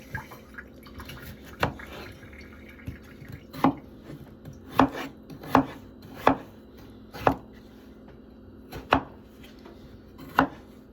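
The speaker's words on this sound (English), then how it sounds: "let's get slicing" Knife chopping on a cutting board while preparing ingredients for a crockpot beef stew, about a dozen sharp, distinct chops at an uneven rhythm, close and fairly loud against a quiet kitchen background.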